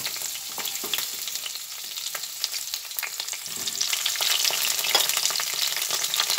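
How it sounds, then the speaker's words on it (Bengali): Cauliflower fries in oil in a wok, a steady crackling sizzle with occasional stirring scrapes that swells louder toward the end. "কড়াইতে তেল দিয়ে ফুলকপিগুলো অল্প করে ভেজে নেব"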